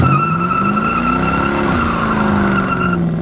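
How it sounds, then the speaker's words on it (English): Tires squeal steadily over a revving engine, a sustained high screech from a 1972 Chevrolet El Camino SS with a 350 V8 and automatic pulling away hard, loud and close. "see if we can't get a little tire chirp for us today"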